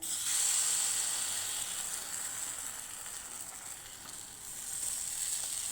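Mustard seeds sizzle in a spoonful of hot oil while a semolina breakfast snack is cooked, giving a steady, close, bright frying hiss that swells and eases slightly throughout.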